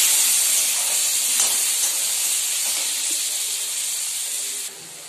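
Chopped tomato chunks hiss and steam steadily in a hot pan, a continuous broad sizzle that holds level for several seconds and then drops slightly near the end, with no voices.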